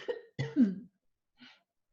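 A few harsh, strained coughs in quick succession, sounding like choking, followed by a short pause and one faint final gasp.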